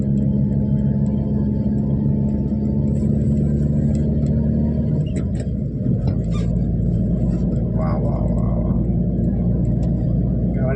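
A Maruti Dzire car climbing a steep mountain ghat road, its engine a loud, continuous low rumble with road noise filling the whole stretch, heard from inside the cabin while people talk.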